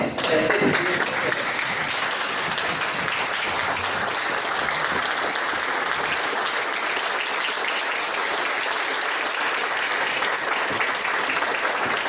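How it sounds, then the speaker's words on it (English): A Rotary club meeting audience in Thomasville gives a full round of applause, dense and steady for about twelve seconds, close and loud with no talking over it. "if you would all join me, one more round of applause for Joe and Jim"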